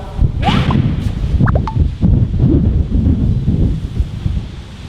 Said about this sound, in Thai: ลมโคตรแรงอ่ะ